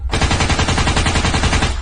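Rapid automatic gunfire rattles continuously, loud and close, a dense unbroken burst with no pauses.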